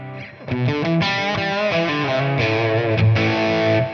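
An electric guitar plays through a ToneX pedal with delay added, giving a loud, distorted, sustained run of chords and notes with effects tails.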